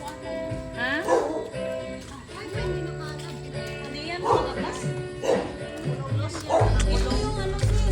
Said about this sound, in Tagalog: Wala may asong nakakulong.